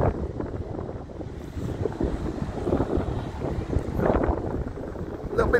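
Gusty wind buffets the microphone on the Blackpool seafront promenade, a continuous low rumbling roar with surging bursts, heard alone.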